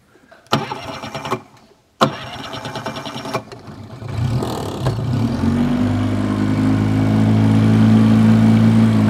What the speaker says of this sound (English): Trouble with the motor.